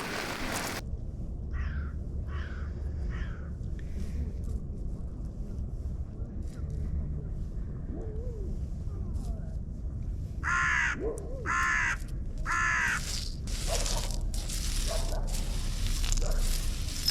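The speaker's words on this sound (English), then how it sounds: "The crows have calmed down." Crows caw on a Scottish beach as the tide comes in, a few calls early on, then a louder, closer run of harsh caws repeating over steady surf and wind noise.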